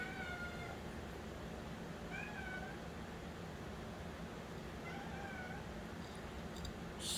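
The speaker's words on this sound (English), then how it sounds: "Some kitty cats making lots of noise." A few faint cat meows, one near the start and others spaced apart, rising over a steady background hiss.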